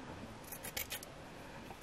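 Scissors snipping through a piece of tulle, a few quick soft cuts clustered mid-clip, close and quiet against low room noise.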